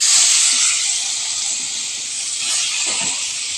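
Garam masala, chilli powder and oil sizzling in a pan for a white pumpkin masala curry, a loud continuous hiss that swells and eases slightly, with no speech.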